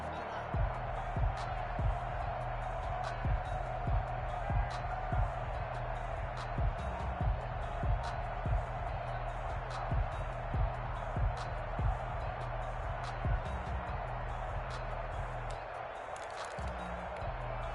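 A stadium crowd in the football video game Madden 21 gives a steady roar with rhythmic thumping beats, running continuously under a commentator's talk.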